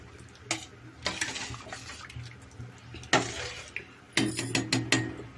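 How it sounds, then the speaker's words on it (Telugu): Water splashes into a metal cooking pot in a few short pours for ash gourd sambar, with clinks and clanks of the pot between them. "నేను కాసిన నీళ్ళు పోసుకుంటున్నా"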